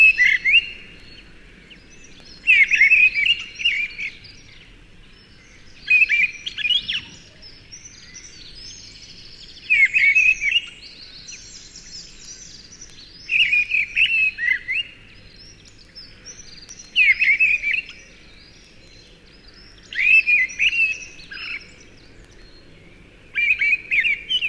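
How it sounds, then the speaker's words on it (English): A Kent woodland chorus of wood pigeon, mistle thrush, wren and hedge sparrow carries bright, brisk warbling phrases that repeat every few seconds over a quiet, hushed background, with no talking. "Wood pigeon, mistle thrush, wren, and the brisk warbling of a hedge sparrow join together in this Kent chorus."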